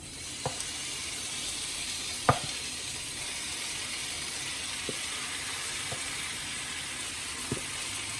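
Chicken added to a pan of browned onions for a Bengali-style curry fries with a steady, even sizzle, broken by a few faint clinks and stirring knocks, with no voices.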